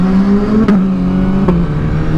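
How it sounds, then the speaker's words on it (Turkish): A Honda CBR1000RR motorcycle's exhaust roars loudly and close, holding a high steady rev with two brief dips where the note breaks, like quick gear changes, before settling slightly lower. "Yalnız egzozu çok güzel bir peyo peyo yapıyor"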